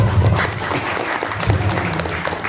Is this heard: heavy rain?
no